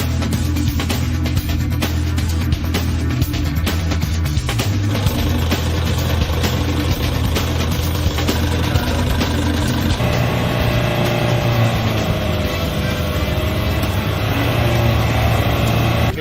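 A Nissan Patrol engine runs steadily at close range, a continuous loud rumbling drone that shifts slightly in pitch partway through without stopping.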